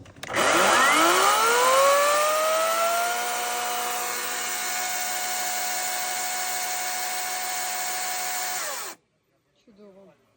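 A Kraissman cordless chainsaw running on a Makita-type battery spins up sharply, whines steadily at high speed for several seconds, then cuts off abruptly, followed by a brief voice.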